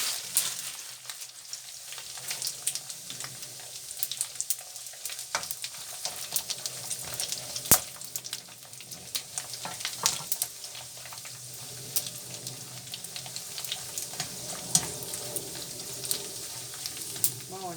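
Food sizzling and crackling in hot oil, a steady fry with occasional pops and the clink of utensils stirring.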